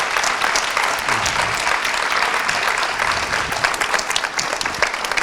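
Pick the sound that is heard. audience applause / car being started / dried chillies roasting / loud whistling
audience applause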